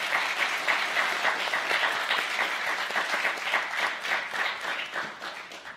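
An audience at a Federal Reserve community event on education and employment applauds its panelists, a dense, steady round of many hands clapping close by for several seconds.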